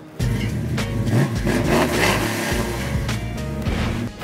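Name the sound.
muscle car engine starting up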